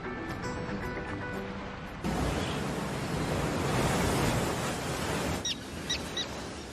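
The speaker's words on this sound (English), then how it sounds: "Heavy surf stirs up food" Heavy ocean surf churns as a loud, broad rush of breaking water that swells and stays constant, with a short cut between sections and a few faint high chirps near the end.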